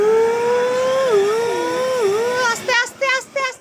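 A child's toy car backs up, and its electric motor makes a clear, steady whine that wavers and bends in pitch. Near the end, bursts of voices talk over it.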